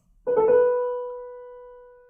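A single piano ornament: a quick dip to the note below and back, then a held tone that rings and slowly decays on its own.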